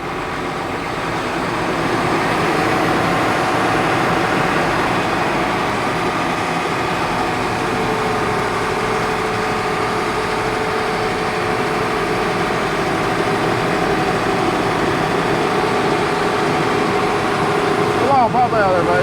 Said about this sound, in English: Speed your engine up!